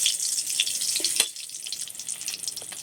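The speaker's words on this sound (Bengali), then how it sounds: "শুকনো মশলাগুলোকে আমি একটু নেড়ে চেড়ে নিয়েছি, নিয়ে দেখুন লালচে লালচে করে ভেজে নিয়েছি" Whole dry spices sizzle in hot oil for tempering: dried red chillies, cloves, cardamom, cinnamon pieces and cumin seeds. A steady, close, bright hiss is broken by one clink of stirring.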